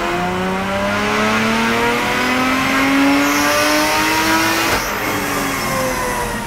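Supercharged IS200 engine revving hard on a dyno, pitch climbing steadily over several seconds with a slipping supercharger belt, then a sudden drop and the revs falling away, loud and close throughout.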